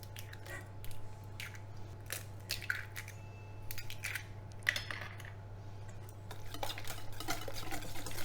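Chocolate cake batter of courgette, oat milk, salt and eggs mixed in a bowl, soft irregular wet squishing and stirring strokes, fairly quiet, over a steady low hum.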